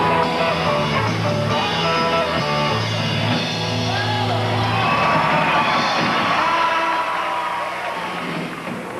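A big crowd at a Wallace and Ladmo tribute event roars and cheers steadily, a dense, continuous wash of voices and whoops filling the whole stretch and easing slightly near the end.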